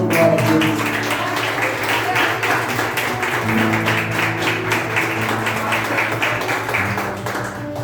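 A church audience claps through a festival worship service. The dense, continuous applause runs for several seconds under sustained keyboard or organ chords and some background voices.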